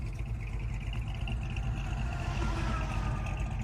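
A restored 1949 Chevy 3100 pickup with a 350 V8 runs at a steady idle, its deep, even engine rumble filling the space close by without pause.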